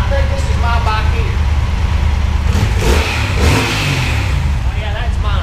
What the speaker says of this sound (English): Both bikes are running.